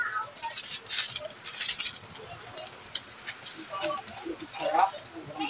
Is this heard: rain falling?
yes